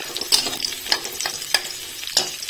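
Chopped garlic and chilli frying in a pan for schezwan momo filling, a soft steady sizzle broken by several sharp scraping stirs of a spatula at regular intervals, close and moderately quiet.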